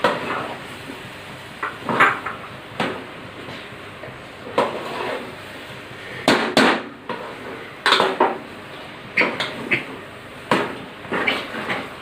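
A metal spoon clanks and scrapes repeatedly against a cooking pot as radish and okra are stirred into a potato and prawn curry, sharp irregular knocks close by with no talking.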